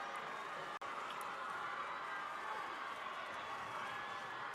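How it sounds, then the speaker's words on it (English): Westfield student cheer block roaring after a touchdown at a high school football sectional game, a dense, steady wall of crowd noise held loud throughout with a brief dropout near the start. "And that Westfield cheer block comes alive."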